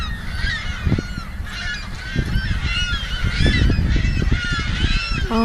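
A noisy flock of seagulls calls overhead, dense overlapping squawks and honking cries continuing throughout, loud and close with no talk.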